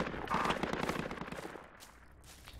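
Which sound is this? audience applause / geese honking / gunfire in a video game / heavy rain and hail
gunfire in a video game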